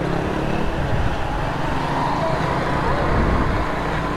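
A Kymco X-Town scooter ridden along a straight road, a steady broadband road and engine rumble with wind, loud and continuous.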